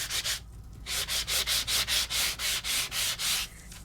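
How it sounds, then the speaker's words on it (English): Rhythmic scratchy rubbing strokes of a sanding tool over embossed paper, about a dozen quick passes in a steady back-and-forth rhythm, close and fairly loud with no talking. "Now I can come over with my sanding tool"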